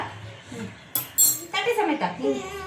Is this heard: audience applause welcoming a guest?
no